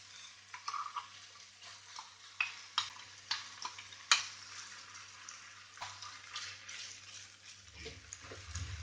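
Goan green masala frying with onions in oil for stuffed pomfret crackles in a quiet, steady sizzle, broken by intermittent stirring scrapes and clicks.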